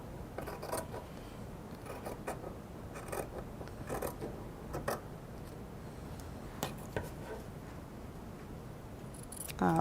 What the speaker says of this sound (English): Let's trim this up just a little bit more so that we have as straight of a line as